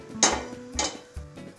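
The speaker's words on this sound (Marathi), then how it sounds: "तवा ठेवून घेऊया." An iron griddle (tava) is set down on a gas stove, giving three sharp metallic clanks with short ringing tails, near and distinct, with no talk.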